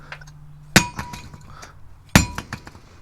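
A wheel hub is dropped onto its brake rotor twice, two sharp metallic clangs about a second and a half apart, each followed by brief rattles, close by in a quiet workshop.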